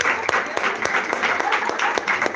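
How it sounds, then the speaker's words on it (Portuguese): A congregation applauds at a religious gathering, a steady burst of close, dense clapping with a few sharper individual claps standing out. "salve de palmas"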